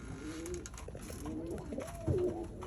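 Pigeons coo softly in a loft where birds are sitting on eggs, with several low rolling calls overlapping at a moderate distance and a slightly louder coo near the end.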